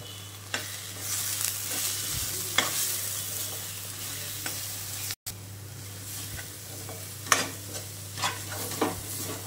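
Turmeric, chutney powder and onion-garlic masala roast in a pan for chana masala, giving a steady frying hiss with repeated sharp scrapes and taps from stirring, no voices.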